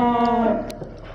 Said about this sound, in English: We see a little sheep. A little baby sheep.